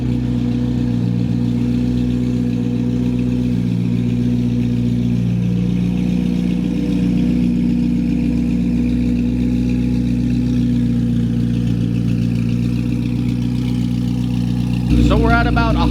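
A C8 Corvette ZR1 fitted with a Soul Performance competition exhaust idles after a cold start with a loud, deep, steady drone, and a voice breaks in near the end.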